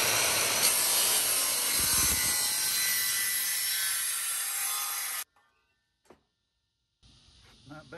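A toilet flange being sawn off gives a loud, steady cutting roar for about five seconds that stops abruptly, followed by near-silence, a single knock, and a quieter rumble returning at the end.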